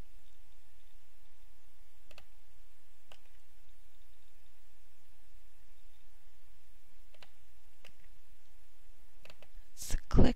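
A computer mouse clicks a few times, sharp isolated ticks spaced a second or more apart over a faint steady hiss, close and fairly quiet, with a louder burst near the end.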